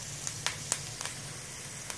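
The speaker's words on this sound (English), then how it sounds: "I'm going to throw the steak on." Steak just laid on a very hot grill gives a steady, fairly faint sizzle, with a few soft crackles and pops over the hiss and no talk.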